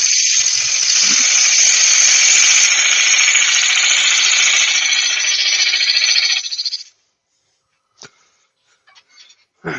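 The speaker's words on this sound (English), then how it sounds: "Just do a bit of sanding on this now" A power sander buzzes loudly and steadily for several seconds, then cuts out, leaving quiet with a few faint clicks.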